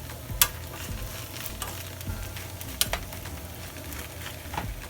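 Butter and margarine sizzle in a hot pan while making a quick breakfast, an even close crackle over a low hum with occasional sharp pops and clicks, and no talking.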